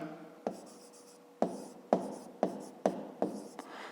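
Pen strokes on paper during a fifth-grade maths lesson: a run of six or seven short, crisp scratches and taps at an uneven rhythm, close and clear in a quiet room.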